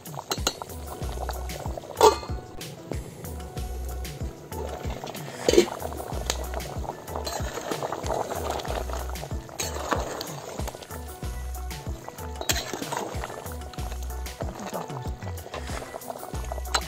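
Village-style mutton sambar bubbles steadily in a pot, a continuous low simmering burble with occasional clinks of a utensil against the vessel and faint background voices throughout.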